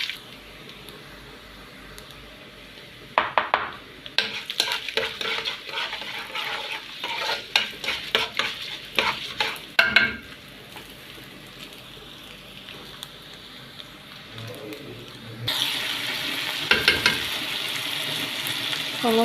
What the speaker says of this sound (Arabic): خلاص بقى كان الرز اتحمر